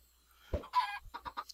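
Chicken clucking from a Minecraft FTB chicken spawning out of an egg: one low thump, then a short squawk followed by a quick run of four or five close, clipped clucks, alone against silence.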